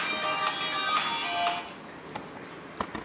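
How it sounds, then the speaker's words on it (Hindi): A mobile phone rings with an incoming call, a bright tonal ring lasting about a second and a half before fading into quiet room tone with a few faint taps. "ये तो इंडिया से सचिन का फोन है।"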